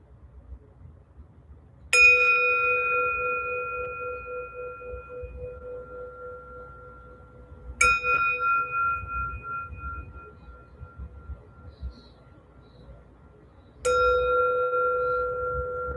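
A meditation bell struck three times to end a practice session, each strike ringing out clear and bright, then fading slowly over several seconds, alone with no talk.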